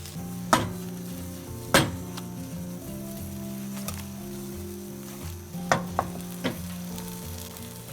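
Brinjal bhartha with green chillies sizzles gently in a pan on a low flame, a soft steady fry broken by a few sharp spoon scrapes and taps against the pan.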